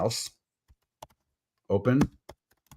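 A few isolated keyboard clicks as someone types into a search bar, sparse taps between short bursts of someone talking.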